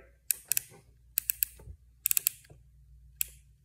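Brake dial on a Daiwa Tatula CT baitcasting reel being turned, giving sharp, crisp clicks in small clusters of two to four, close and quiet, with no talking.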